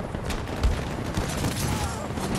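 A bomb explosion in the Battlefield 2042 video game produces a dense, loud rumbling blast with crackling debris that fills the whole short moment.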